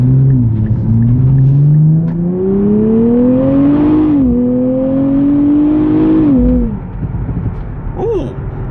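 A Nissan Z NISMO with a nine-speed transmission drones loudly through rising revs and quick shifts, its exhaust dropping into a few brief pops and burbles as the engine note falls away near the end.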